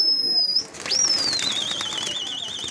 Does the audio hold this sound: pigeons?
yes